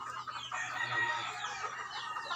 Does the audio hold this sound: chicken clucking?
yes